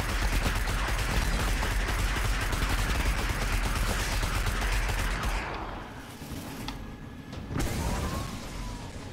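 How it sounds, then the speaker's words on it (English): Gunfire in Destiny, aimed at the ground: a rapid, loud, continuous stream of shots for about five seconds that then stops, followed by quieter game sounds and a short final burst. "Oh, I'm just shooting at the ground here."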